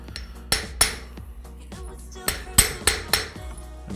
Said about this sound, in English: I'm just gonna use the flat end of my ball peen hammer and I'm gonna flatten that edge out.